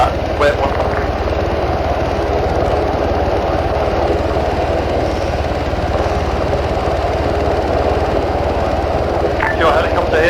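Steady, loud rotor and engine drone of a helicopter in the military video game Arma 3, continuous throughout with no breaks.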